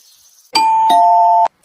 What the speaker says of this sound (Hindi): किसी अजनबी ने दरवाजे की घंटी बजाई